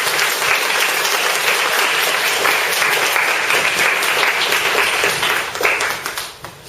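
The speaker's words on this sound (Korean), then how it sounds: "나오실 때 우리 뜨겁게 박수로 환영하도록 하겠습니다." A church congregation bursts into warm, sustained applause to welcome a speaker to the front, dense clapping filling the room at steady volume before tapering off near the end.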